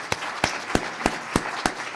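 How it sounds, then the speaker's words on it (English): At a maritime leadership symposium, applause for cadets comes through as a handful of sharp, evenly spaced claps, about six in two seconds, fairly close and isolated rather than a dense crowd roar. "let's give a round of applause for our cadets who are with us today"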